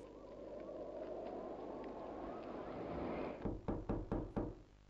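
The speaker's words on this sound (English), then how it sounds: "Who's knocking at this hour?" Knocking on a door in the horror video game Poppy Playtime: about five sharp, evenly spaced knocks land near the end over a low, droning ambient rumble.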